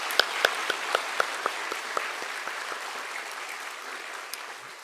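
A Korean church congregation applauds newly installed deaconesses at an ordination service, with steady, dense clapping and a few sharper individual claps standing out near the start.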